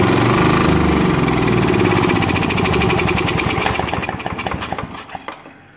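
A loud, rough engine that burns a lot of oil runs nearby with a rapid knocking beat that gradually slows and fades as it winds down.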